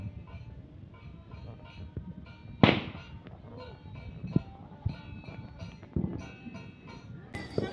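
Diwali firecrackers go off intermittently at a distance, several sharp pops and bangs scattered over a faint background hum, one louder crack standing out, with occasional voices nearby.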